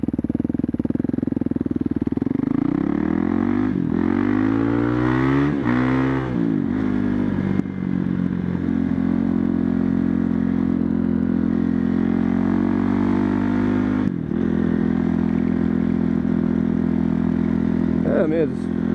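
Husqvarna TE511 motorcycle engine on a test ride, a loud continuous close engine drone rising and falling as it revs through gears, with wind rush throughout.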